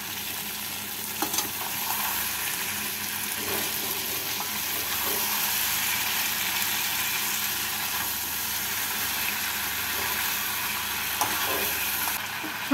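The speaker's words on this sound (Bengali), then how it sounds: "এর মধ্যে দিয়ে দিলাম টুকরো করে রাখা ক্যাপসিকাম, মটরশুঁটি, ভেজে রাখা পনির। সমস্তটাকে ভালো করে এই মশলার সাথে মিশিয়ে নেব।" Capsicum, peas and fried paneer sizzling in a hot pan as they are stirred together with spices, a constant loud crackling fry with occasional scraping stir sounds, no talk.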